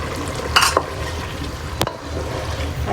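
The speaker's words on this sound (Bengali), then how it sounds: "এখন নাড়বো" Spice paste of ground fried cumin, onion and garam masala being stirred in a cooking pan for an egg curry, a steady low sizzle with a couple of sharp utensil scrapes against the pan, close and alone.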